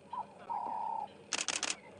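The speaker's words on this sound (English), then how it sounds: "the Cape turtle dove." Cape turtle dove calling during an evening safari drive at Djuma and Arathusa, a brief run of soft repeated notes heard close and clear after a quieter sustained tone.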